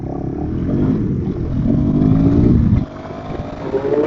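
KTM Duke 390 R motorcycle pulling away and accelerating hard, engine note rising loud and close before dropping off abruptly near the end, then a quieter idle-like rumble.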